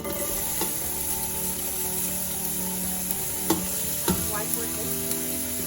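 Onions fry in a pan with a steady, moderate sizzle, punctuated by a few sharp clicks and scrapes of utensils against the pan.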